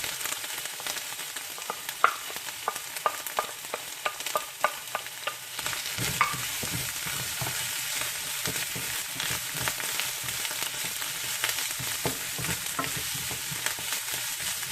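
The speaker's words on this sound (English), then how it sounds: "And you want to brown this, the lemongrass and the garlic." Lemongrass stalks and garlic browning in a hot pan for Vietnamese bun bo hue, with a steady sizzle and repeated sharp scrapes and clicks of stirring that crowd the first half, then a denser frying hiss continuing alone.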